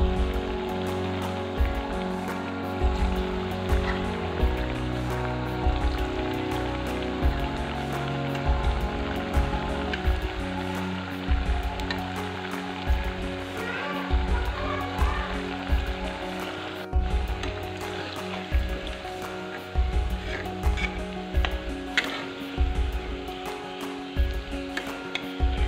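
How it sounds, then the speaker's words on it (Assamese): Pumpkin pitha fry in hot oil in a wok, a steady crackling sizzle lasting throughout with faint kitchen clatter and no talk. "এতিয়া মই এইখিনি ধুনীয়াকৈ তেলত ভাজি ল'ম"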